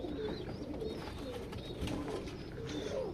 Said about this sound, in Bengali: এটা পুরো ব্রিডিং এর কবুতর।